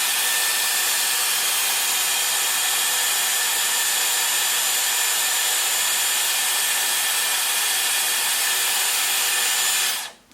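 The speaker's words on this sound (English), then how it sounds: "now I'm going to blast the cold shot onto it" A Dyson Airwrap hair styler blows a steady, loud airflow on its cold shot setting with an even whine and no talk, then cuts off abruptly at the end.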